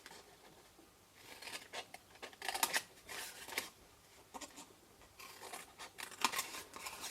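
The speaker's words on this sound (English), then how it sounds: "So remove that skinny bit and cut straight down all of those." Scissors snip through paper for a hand-stamped box, a quiet close run of short cuts in irregular bursts with small pauses between them and no talking.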